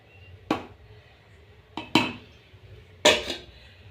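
A utensil stirs and whisks cooked chutney in a pan while rava dosa is being made. Three distinct metallic clanks and scrapes fall at uneven intervals, close and fairly loud against a quiet kitchen background.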